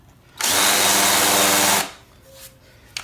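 A power drill countersinks a screw hole in melamine, a loud steady whine running for over a second, then cutting off into quiet room noise.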